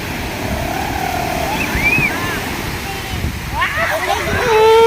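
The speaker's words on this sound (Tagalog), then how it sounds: "Hintayin ko yung malaking alon, hintayin ko." Big sea waves wash and break on the shore at Dingalan beach, a steady roar swelling louder near the end, while someone talks and calls out over it.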